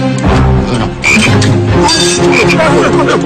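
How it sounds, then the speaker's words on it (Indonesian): A frog croaks continuously and close up, the harsh calls running back to back at a steady loud level. "Usir kodok, usir."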